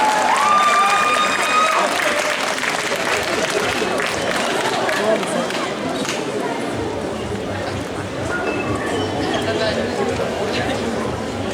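Audience applause at a cosplay contest, a steady dense wash of clapping from a crowd lasting the whole stretch, with chatter and a voice over a speaker system layered on top.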